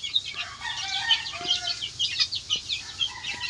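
Gamefowl chickens on a farm cluck and chatter close by in quick, overlapping bursts, with a few short crowing notes mixed in.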